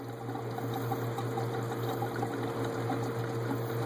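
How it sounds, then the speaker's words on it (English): Engine coolant pours steadily out of a removed coolant pipe elbow on a Pontiac Grand Prix 3.8L, a continuous close trickling flow over a low steady hum, with no speech. "Coolant flowing out."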